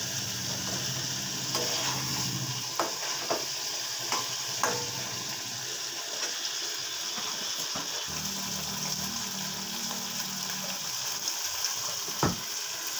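Fish tossed into spice paste for a tangra fish curry is stirred and fried in a pan: a steady soft sizzle with intermittent scraping strokes and a few clacks, fairly quiet throughout.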